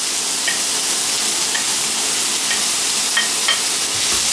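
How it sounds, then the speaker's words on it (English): Steak and diced onions stir-frying in a pan for Cantonese steak fried rice, a steady, close sizzle with occasional light clinks of a utensil stirring. "Give that good stir fry so that the onion flavors can get absorbed into the steak meat over here."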